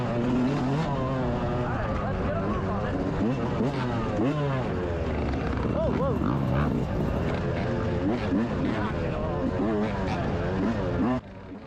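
2024 Yamaha YZ125 two-stroke dirt bike engine revving up and down while riding a GNCC off-road race, loud and close with rising and falling pitch sweeps, a rider's voice talking over it.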